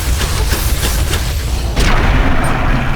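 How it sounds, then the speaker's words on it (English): Gunfire from an enemy behind the player in the Fallout game Tale of Two Wastelands: rolling, booming shots that swell into a louder, heavier blast near the end, with no talking. "Something's behind me shooting."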